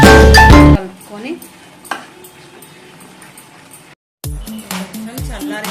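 Sweet-sour fish pickle mixture with salt stirred in a pan, a spoon scraping and clinking against the metal in short strokes, preceded by a loud clatter and broken by a brief pause.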